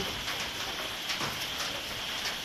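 Rain falling steadily, an even wash of patter with a few faint bird calls in the background.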